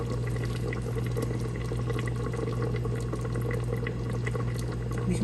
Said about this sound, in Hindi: तो चलें फिर थोड़ा सा इसमें डालते हैं ऑयल।